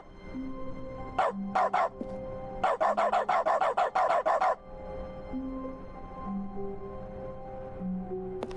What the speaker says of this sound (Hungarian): És az akció gombbal ugatunk.